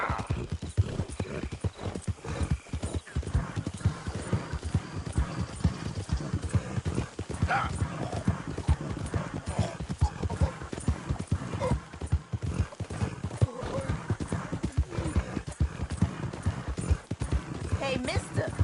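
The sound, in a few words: horse hooves galloping and neighing in Red Dead Redemption 2 video game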